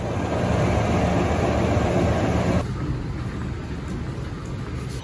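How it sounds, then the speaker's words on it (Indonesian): A loud, continuous rumbling roar of a passing passenger train hauled by a CC206 diesel locomotive, broadband rushing noise, dropping in intensity partway through. "Lokomotif CC206 1339 adalah lokomotif dinas kereta api Argo Wilis pada hari ini."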